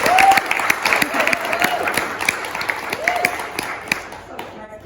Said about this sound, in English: all of us should just clap for them